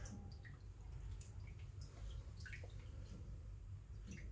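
Small bubbles rise and pop in an aerated water tank, giving faint, scattered light drips and gurgles over a low steady bubbling hiss, quiet and close, with no talking.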